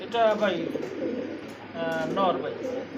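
A pigeon coos in two low, throaty bursts close by, each a rolling bubbling call, with a short pause between them and no other sounds.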